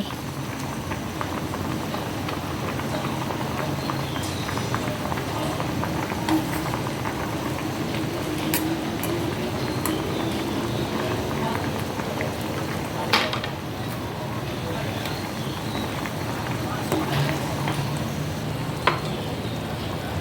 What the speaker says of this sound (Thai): เดือดแล้วค่ะ